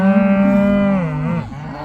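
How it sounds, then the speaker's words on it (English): Cattle moo in one long, loud, close call that slides downward before fading into a rougher grunt at the end, with no one talking. "Cows here are a little pissed off now."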